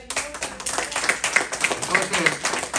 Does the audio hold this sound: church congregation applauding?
yes